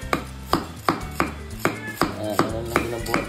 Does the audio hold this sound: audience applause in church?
no